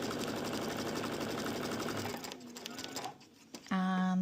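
A domestic sewing machine stitches stretchy fabric with a rapid, steady mechanical whirr for about two seconds, then slows and stops with a few clicks before a brief tonal hum at the end, close and alone.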